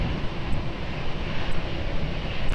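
Airplane departing runway 20 at Lisbon Airport in strong, gusting wind, heard as a constant loud engine roar with broadband rumble throughout and no speech over it.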